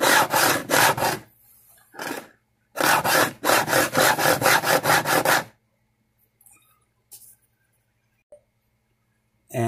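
Filing and beveling guitar fret ends, two bursts of fast, rhythmic rasping strokes, loud and close, with a few quiet scrapes and taps in the pauses between.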